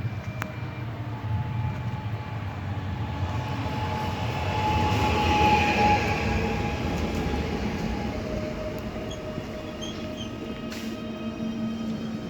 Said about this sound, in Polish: Pociąg osobowy kolei śląskich relacji Bochumin-Katowice.